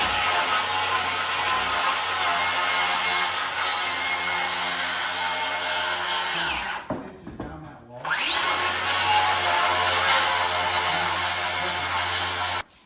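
A skill saw cuts through wooden stair boards with a loud, sustained whine, briefly spinning down and dropping in pitch midway before revving back up to full speed to continue the cut.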